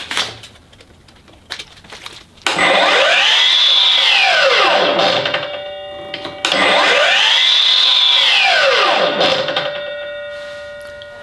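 A Milwaukee M18 12-inch cordless miter saw with a 12 amp hour Forge battery, spun up twice: each run rises to a loud whining roar, holds briefly, then winds down, with a short gap and clicks between.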